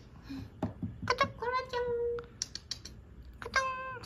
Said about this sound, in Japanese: 猫がいます外見てる